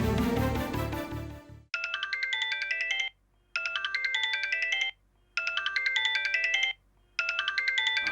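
A phone ringtone plays a bright repeating melodic pattern in four bursts separated by short gaps, clear and alone after a brief stretch of music at the start.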